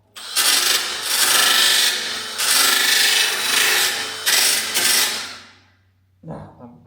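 Body filler is hand sanded with coarse 60 grit sandpaper, close and fairly loud, in about five long rasping strokes with short pauses between them, ending in a final brief scrape.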